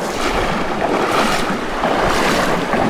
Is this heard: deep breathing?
no